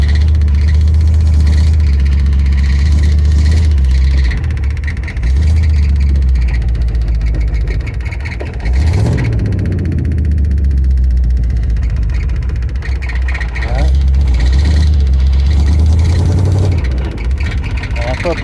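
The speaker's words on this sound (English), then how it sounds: "I think the idle is taking care of itself too, or it's finally warmed up." A 1973 Ford F-250, running for the first time in 18 years after warming up, idles with a loud, deep, steady rumble close by, the revs rising and falling a little as someone talks over it.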